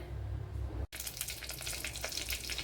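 Ingredients dropped into hot oil for a curd (moru) curry, loud steady sizzling and crackling after a brief pause, alone without talk.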